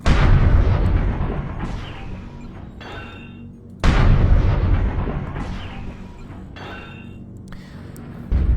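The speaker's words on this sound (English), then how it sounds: "The AC-10 fires a lot slower, but has the massive bonus of doing a solid 10 damage per hit" An AC-10 autocannon on a Cataphract heavy mech in MechWarrior Online fires two heavy booming shots several seconds apart, each a loud blast trailing off into a long rumbling decay, with a third shot starting at the very end.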